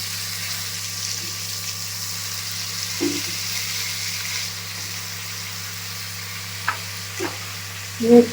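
Drumsticks fry in a pan for a fenugreek curry with roasted peanuts, giving a soft, steady sizzle under a constant low hum, broken by a few brief clinks and stirring knocks, louder near the end.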